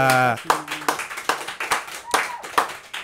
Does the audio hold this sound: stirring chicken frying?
no